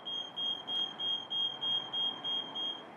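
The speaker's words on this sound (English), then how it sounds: "The machine will then go through a beep cycle" An Athena 850 HE machine gives its startup cycle of high, piercing electronic beeps in a steady, evenly spaced rhythm, about seven in a row, over a low background hum.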